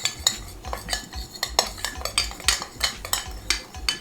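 A utensil stirs mango glaze for salmon in a bowl, giving rapid, rhythmic clinks and scrapes against the dish, close and fairly loud, with no talking.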